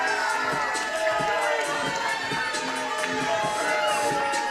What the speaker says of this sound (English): listen to this crowd tonight